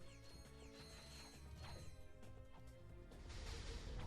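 Objects smashed in the video game Ratchet and Clank: Going Commando, with a rapid series of crashes, metallic mechanical clanks, ratcheting and whooshes over a busy game soundtrack, building louder toward the end.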